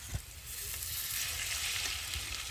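Garlic, ginger and cumin pastes fry in oil with turmeric and chili powder, making a steady, loud, close sizzle that continues unbroken throughout, with no voices.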